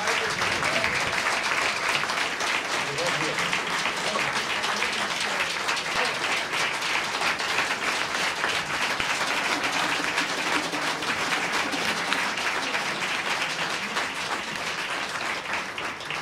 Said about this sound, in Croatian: Molim vas još jedan pljesak za njega